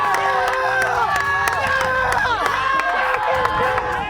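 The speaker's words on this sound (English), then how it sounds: "there is a group of comrades not too far away cheering them on and pushing them to do their best" Comrades on a SWAT competition team cheer and shout encouragement, a continuous crowd of raised voices close by, loud and sustained throughout.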